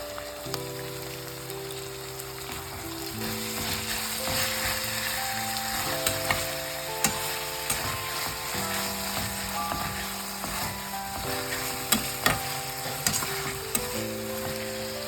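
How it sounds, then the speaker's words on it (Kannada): Tomatoes frying with onion and ginger garlic paste in a pan, giving a continuous crackling sizzle with a few sharper pops, playing beneath steady background music. "ಸೊ ಈಗ ಟೊಮ್ಯಾಟೊ ಹಾಫ್ ಫ್ರೈ ಆಗಿದೆ."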